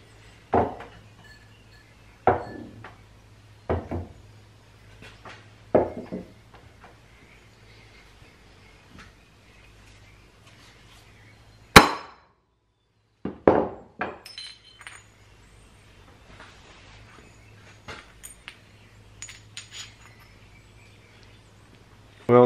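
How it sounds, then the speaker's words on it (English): Hammer blows strike thick glazed pottery mugs, a series of sharp cracks and clinks every second or two, followed by a louder smash and tinkling shards, over a low hum. "So next we're gonna take a hammer and we're gonna break these things."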